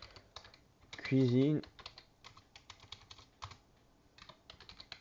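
Rapid clicking of keys as text is typed on a computer keyboard, steady and close, with a single word briefly spoken partway through.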